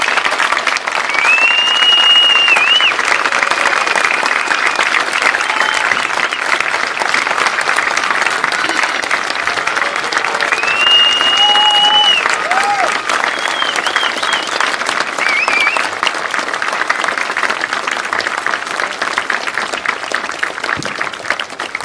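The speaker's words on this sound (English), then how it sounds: "Everybody, please join with me in one final round of applause." Sustained, even applause from a large graduation crowd at a high school ceremony, steady and dense throughout with faint whistles or cheers rising briefly above it.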